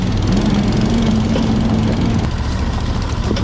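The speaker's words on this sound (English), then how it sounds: "Just to see what you can do with the stock engine like this." A buggy's stock 23 hp V-twin engine runs steadily at a loud, even rumble up close, with a constant low drone and no talk over it.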